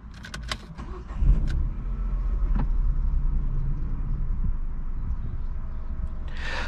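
A Renault Symbol with a 0.9 TCe three-cylinder turbo petrol engine starts after keys rattle, the engine catching with a brief rough burst and then settling into a steady, quiet idle.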